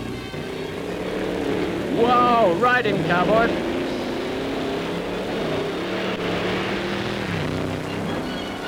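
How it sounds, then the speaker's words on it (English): Two Allard sports cars roar up a steep hill climb at a sunny motoring trial, their engines loud and sustained with rising and falling revs, while someone comments over them. "Just watch these 2 allards roaring up to the summit."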